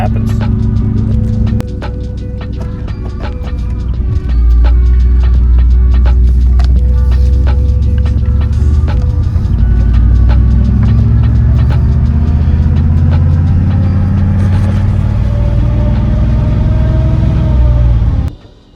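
A Chevy engine with fuel trouble runs loud and close, idling high before dropping into a heavier, deeper drone once the car is put in drive, then cutting off abruptly at the end.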